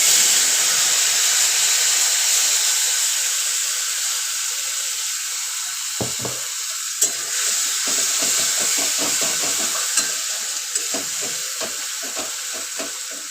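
Spices frying in a pan for vegetarian masala paneer, a loud continuous hiss and sizzle close up, with a run of short scraping stirring strokes in the second half.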